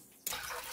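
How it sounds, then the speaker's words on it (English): A cup of water poured into a mixture of plain white vinegar for rinsing crab. Quiet at first, then a sudden steady splashing pour starts and continues up close. "I'm going to add 1 more cup of water"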